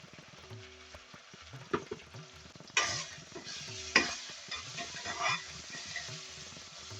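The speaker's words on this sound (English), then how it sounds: "We just want everything and all of the spices to fry in the oil before adding in the sheephead" Turmeric, chili powder and masala frying in oil with garlic paste for a Durban sheephead curry, a soft steady sizzle broken by stirring scrapes and a couple of sharper splashes, close with no talk.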